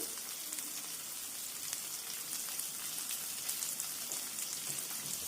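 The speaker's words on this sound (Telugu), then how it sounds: "ఇప్పుడు దీంట్లోకి చింతపండు కూడా వేసుకొని మగ్గబెట్టుకుందాం" Tamarind and tomatoes cooking down in a pan for a hair-health chutney give off a steady, close sizzle and crackle of frying, even and continuous with no talk.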